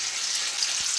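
Food browning in a pan on top of a wood heater, a loud continuous hiss of sizzling fat heard up close, with no talk.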